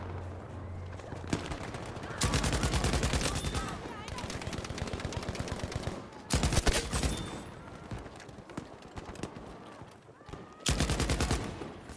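Rapid bursts of gunfire in Battlefield V, aimed at a tank on a desert battlefield, come in three loud, dense volleys with quieter battle ambience between them.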